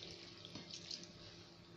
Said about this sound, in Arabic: وهضيف عليها حبه ميه، يعني حبه ميه كمان كده صغيرين